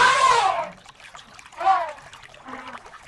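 A herd of elephants sprays river water from their trunks, heard as a loud splashing burst followed by two softer watery gushes.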